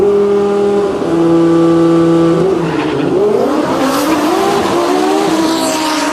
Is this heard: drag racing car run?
yes